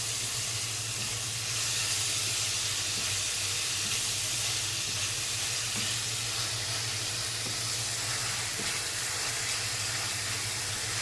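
Onion, garlic, ginger and cumin paste sizzles in hot oil in a pan where eggplant was just fried, a steady broad hiss with faint crackles and a low hum running underneath throughout.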